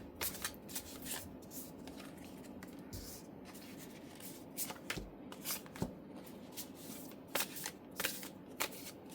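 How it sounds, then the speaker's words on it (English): Tarot cards shuffled and drawn by hand: a soft, close, continuous riffling and flicking of card stock with scattered sharper snaps, fairly quiet throughout. "So we'll go ahead and draw out"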